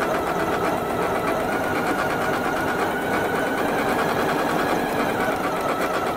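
Janome Memory Craft 9450QCP computerized sewing machine stitching steadily at a constant speed, a close, continuous mechanical hum and rapid needle chatter with no talk over it.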